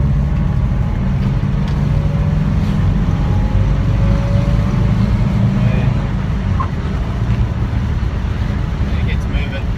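Subaru Kombi van driving on a road, a steady low engine drone and road rumble heard from inside the cabin, continuous throughout, with speech over it.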